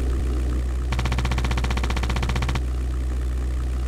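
A fighter plane's machine gun fires one rapid rattling burst of about a second and a half in a European air war video game, sharp and close over a constant low engine drone.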